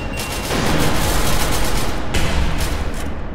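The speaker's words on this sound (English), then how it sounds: "Grenade!" Grenade detonating in the video game SCP: Secret Laboratory, a sudden loud blast rolling into a dense crackling burst that stays heavy for a few seconds, with a second surge partway through.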